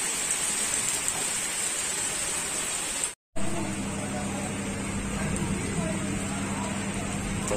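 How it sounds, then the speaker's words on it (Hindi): Steady monsoon rain in Sri Ganganagar, India hisses continuously, dense and even, with a brief dropout partway through before the downpour resumes. "आज फिर से बारिश शुरू हो गई है"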